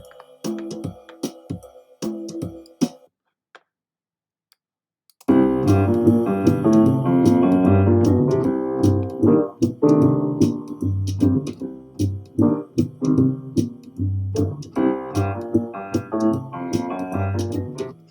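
A brief sparse musical intro, a pause, then a loud, steady jazzy shuffle groove with drums and instruments that keeps looping, from a GarageBand loop.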